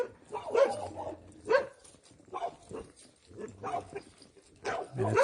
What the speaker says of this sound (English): It is a quiet town except for